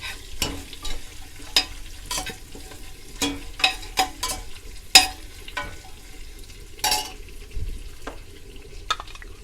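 Curry leaves and pandan leaves frying in a pan for a Tamil chicken dish, with a soft continuous sizzle broken by repeated scraping stir strokes; close, moderately quiet, with no talking.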